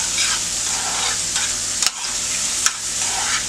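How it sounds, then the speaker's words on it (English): Mushrooms frying in a pan, a dense steady sizzle with two sharp stirring clacks and scrapes partway through, close and without any talking. "And give that a stir."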